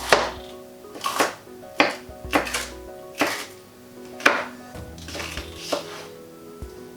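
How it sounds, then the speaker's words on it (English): A knife slices vegetables into thin strips for jackfruit fajitas, with about a dozen crisp, close chops against a cutting board in an uneven rhythm, clear and alone. "Again, just cut into thin strips."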